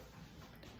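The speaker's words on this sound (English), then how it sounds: "just burping all over me" A loud, abrupt burp from a person, bursting out at the very end after a near-silent stretch, close to the microphone.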